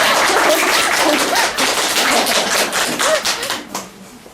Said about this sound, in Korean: 박수 한번 쳐주셔야 될 것 같아요